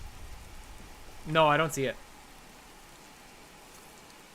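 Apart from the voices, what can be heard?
rain in the video game Skyrim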